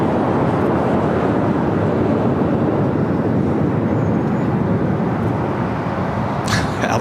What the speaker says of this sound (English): Got that United Dreamliner now rocking and rolling down